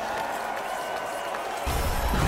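A crowd cheers and roars at an X Games Big Air event in the video game Steep, a steady wash of noise that swells louder near the end.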